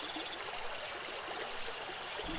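A babbling stream near a waterfall in a forest trickles and gurgles in a steady, soft wash of water with no other sounds.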